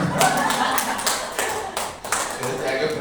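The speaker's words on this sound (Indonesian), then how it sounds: "Nah, guys, tepuk tangan semua" A group of people clapping hands together, a lively burst of overlapping claps with sharp individual slaps, close and loud, mixed with voices talking.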